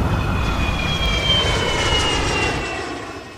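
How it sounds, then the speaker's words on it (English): An airplane engine drones loud and steady with a high whine on top, then slowly fades toward the end as the aircraft moves off. "I'll get the Rookie on a plane right now."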